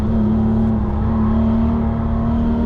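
A Porsche 996 GT3 rebuilt after a crash, its rear-mounted engine revving hard toward 7,000 RPM on the Nürburgring, is heard from inside as a loud, sustained high-pitched wail with a strong steady tone and no talk.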